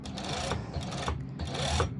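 A sewing machine top-stitches swim skort fabric in short, close bursts with rubbing of cloth between runs, steady and moderately loud.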